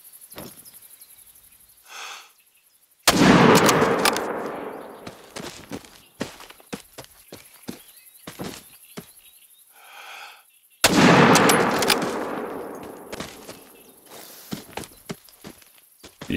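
Two loud rifle shots in The Hunter: Call of the Wild, each a sharp blast at about three and eleven seconds with a long rolling echo that fades over several seconds, with quiet footsteps and faint sounds between.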